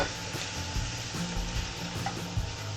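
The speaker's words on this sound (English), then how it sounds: "Now it's time to put our Panko breadcrumbs." Panko breadcrumbs toasting in a frying pan for mac and cheese, a steady close sizzle with soft stirring scrapes and no talk.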